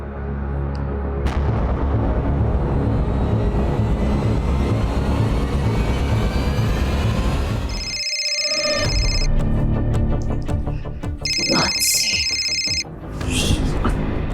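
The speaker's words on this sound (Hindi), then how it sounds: "इस फोन को साइलेंट करा दो ना। मानसी कॉल कर रही है।" A telephone rings in short electronic bursts late in the clip, cutting through a loud, dense mix of music and effects.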